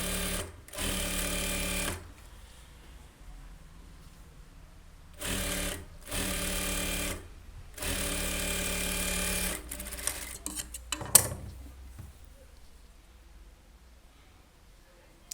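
A sewing machine stitches a lining strip for a blouse in several loud bursts of rapid whirring, separated by short pauses, then falls quiet with some light handling clatter near the end.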